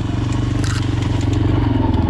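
A Minsk X250 enduro motorcycle engine revs close by, a loud throbbing pulse rising in pitch with rattling and crackling from the bike.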